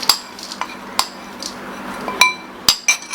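Sambal with peanuts and anchovies stirred in a pan, a utensil giving scattered sharp metallic clinks and taps against the pan, about seven distinct hits spaced irregularly over a quiet background.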